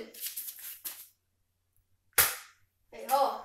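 A Nerf blaster fires once with a single sharp snapping pop midway, close by, amid brief bursts of talk before and after.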